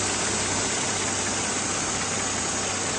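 A 2010 Mercedes-Benz GLK-350 4MATIC engine idles smoothly and steadily, a constant close hum with no other sounds over it.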